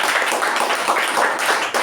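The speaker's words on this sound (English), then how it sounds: "I think it deserves a big round of applause for the amazing job." Audience applause at a club meeting session, a dense, even patter of many hands clapping close by for the whole short stretch, with no talk over it.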